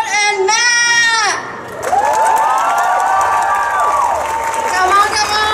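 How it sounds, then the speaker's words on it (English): Audience at a German comic convention Q&A with Harry Potter cast members cheering, shouting and applauding, a loud continuous crowd roar with excited high voices rising over it and carrying on almost throughout. "So I need a round of applause for Miss Afshan and Matt!"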